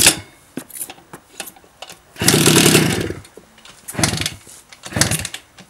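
A Romet Ogar moped with a newly fitted ALMOT cylinder sputters and revs in short uneven bursts, one longer rev in the middle, close by during repair work.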